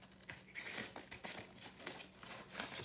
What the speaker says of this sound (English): the first thing I'm going to do is just put the scissors through these end papers